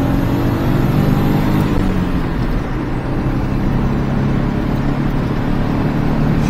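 Engine of a Daihatsu Hijet Atrai micro van while driving: a steady, continuous low drone and rumble with road noise, loud and close throughout, without speech.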